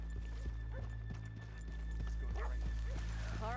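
Horses walk at a slow, steady clip-clop on a road in the Western video game Red Dead Redemption 2, with faint hoof beats over a low ambient hum and a short whinny near the end.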